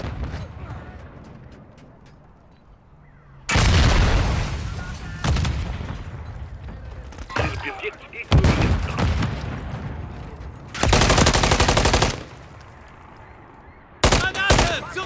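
Bursts of automatic gunfire in Call of Duty: Modern Warfare III on the Highrise map, loud broadband volleys of several seconds each separated by quieter stretches, with a sharp burst starting again near the end.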